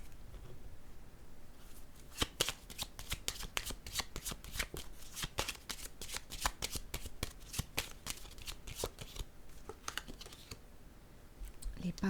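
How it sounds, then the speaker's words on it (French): A deck of cards is shuffled repeatedly in rapid riffling bursts, crisp fluttering snaps close to the ear, with a soft voice murmuring at points before a card is drawn. "Je vais piger une autre carte."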